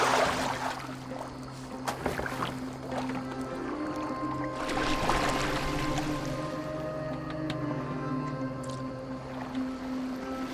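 A boat glides across water in Assassin's Creed Valhalla, a soft continuous wash of hull and oar sounds with low sustained tones beneath and occasional faint knocks, steady and unhurried.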